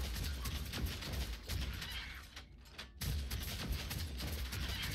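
Continuous rapid gunfire and explosive bursts from the Warhammer 40,000 Deathwatch video game, dense and loud throughout with a brief lull near the middle before the firing resumes.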